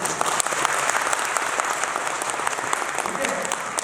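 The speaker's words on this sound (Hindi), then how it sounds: "तो हमारे परिवार के लिए एक बार ताली होनी चाहिए" An audience at a blockchain business seminar in Raipur, Chhattisgarh breaks into steady, dense applause, loud and continuous for the whole stretch, with some voices mixed in beneath the clapping.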